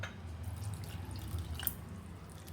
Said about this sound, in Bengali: এর মধ্যে এখন আমি আরেকটু জল দেব।